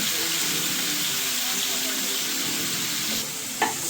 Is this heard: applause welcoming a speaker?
no